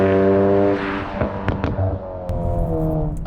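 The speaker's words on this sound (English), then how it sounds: "what he got was pops and crackles through the whole rev range" A VW Golf R with a burble exhaust tune revs loudly and steadily, its droning note broken by several sharp pops and crackles near the middle.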